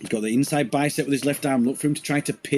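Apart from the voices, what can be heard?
No distinct noise like a dog, phone or traffic.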